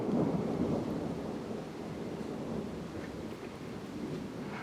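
Distant thunder from a lightning strike during a severe thunderstorm with damaging winds in southeastern Pennsylvania, a sustained low rumble rolling on for several seconds with faint rain and wind noise beneath.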